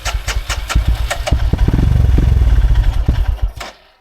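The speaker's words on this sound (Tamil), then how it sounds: "டிராக்டர் வருது." Engine of a tractor on an off-road trail near Palacode, a loud, close mechanical rumble with rapid clattering pulses that swells and holds steady before cutting off abruptly near the end.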